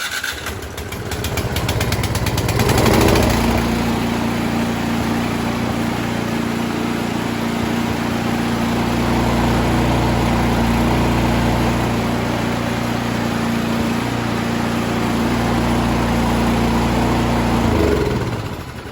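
A Troy-Bilt Storm 2410 snowblower's engine cranks with a rapid rattling pull, catches, and settles into a loud, steady, close-up running drone that continues until a sudden cutoff near the end.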